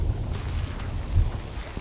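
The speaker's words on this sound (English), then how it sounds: "Sounds like the thunder is behind us," Thunder rumbling during a rainstorm with big raindrops on a rocky mountain trail, a low, distant roll under steady rain hiss that swells briefly near the middle.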